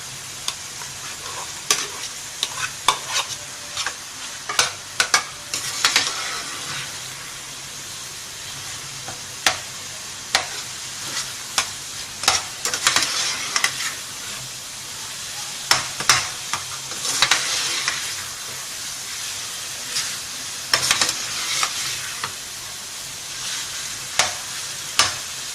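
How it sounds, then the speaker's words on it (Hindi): Mashed potatoes are stirred and roasted in a sizzling masala gravy in a pan. A steady fry hiss runs throughout, broken by repeated scraping strokes of the spoon, close and fairly loud, with no talking. "इसकी हमें अच्छे से भुनाई करनी है ताकि मसाला आलू के अंदर अच्छा सा मिक्सअप हो जाए।"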